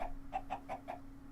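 Iron Chicken from Sky Factory 3 in Minecraft clucking in a steady run of five short, evenly spaced clucks over a faint constant hum.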